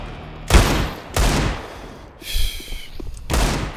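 Several loud gunshot bursts from a CS:GO match, each a sharp broadband crack with a short decaying tail, spaced about a second apart, with faint game noise between them.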